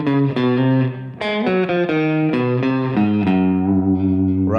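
Electric guitar playing gospel-style major soloing lines with effects and light distortion, a run of loud, close, quick melodic notes ending on a held note.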